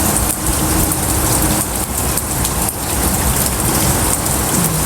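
Steady rain pours over succulent plants on a wet morning, a dense, even hiss of drops spattering close by without a break, with no voices.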